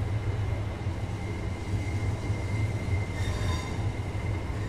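A train rumbles along steadily in the London Commuter route of the Train Sim World 2 video game during rush hour, with continuous low rail noise and a faint high wheel squeal partway through, no talk.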